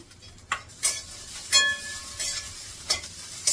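Okra sizzles as it roasts in a pan over a high gas flame, with a soft steady frying hiss broken by sharp scrapes and clinks of a spoon stirring against the pan at irregular intervals.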